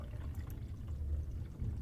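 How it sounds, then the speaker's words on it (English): Running water from a bathroom in the game Tiny Bunny, a soft, steady pouring flow, faint and continuous for the whole moment. "The sound of running water were coming from the bathroom."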